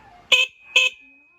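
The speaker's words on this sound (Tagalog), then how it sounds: "Okay na yung busina natin" Two short, bright beeps from a Motorstar 125 motorcycle horn being tested, loud and close, followed by quiet.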